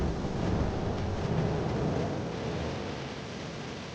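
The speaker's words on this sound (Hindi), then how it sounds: "अचानक बिजली चमकी और गरज के साथ बरसात शुरू हो गई" A cartoon-style thunder and rain effect fills the scene with a steady, dense roar of downpour and a low rumbling swell that slowly fades, no voices over it.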